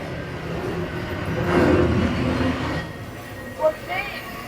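A rumbling train-ride effect in the Edge observation deck attraction on the 100th floor of a New York City skyscraper swells and fades, with people talking over it and a few short bright tones near the end.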